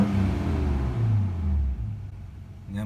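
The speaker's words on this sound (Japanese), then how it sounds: "とにかくエンジン音がいい。" A Nissan Cima luxury sedan from the early Heisei era revs its engine, a low, steady rumble that swells and eases, close and alone, then cuts off near the end.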